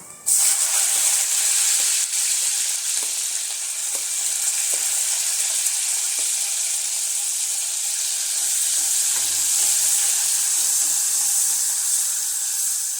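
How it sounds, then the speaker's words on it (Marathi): Onions and cumin seeds fry in a pan toward golden brown, giving a loud, even hiss that starts abruptly and holds steady, with a few faint stir clicks early on. "कांदा आपल्याला केव्हा करून भाजून घ्यायचा आहे, तर ते पूर्ण गोल्डन ब्राऊन कलर होईपर्यंत."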